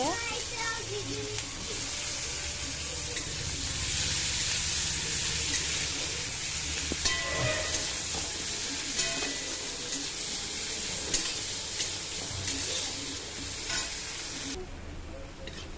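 Chopped onions and green chilli sizzle steadily in a hot pan, a continuous hiss broken by occasional scraping and stirring clatter, with a voice talking over the cooking.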